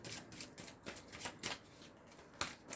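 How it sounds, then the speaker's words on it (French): Tarot cards are handled and drawn from a deck in a quiet room, with a series of soft, crisp card slides and flicks in an irregular rhythm and no talking. "Et je vais tirer une dernière carte ici pour les Verseaux."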